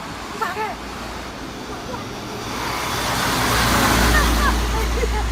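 Heavy road vehicle noise, a cement mixer truck close by, builds as a low rumble that grows louder toward the end, with people talking over it in the street.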